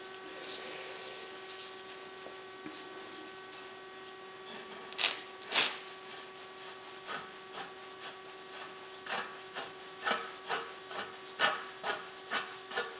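A rag swabs inside a titanium snowmobile exhaust pipe, giving repeated close rubbing strokes in a quickening rhythm over a steady background hum.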